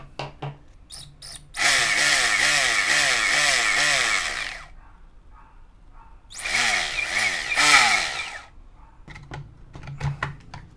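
Screws being driven into the rails of an FD 20 frame by a power driver in two long, loud whirring bursts, each a couple of seconds or more, with short clicks and handling taps between them.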